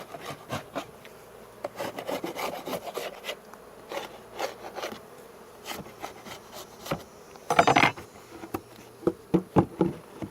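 Propolis being scraped off wooden beehive boxes with a hive tool, giving repeated short rasping scrapes in uneven bursts, close by, with bees buzzing faintly around and a louder grinding scrape near the middle.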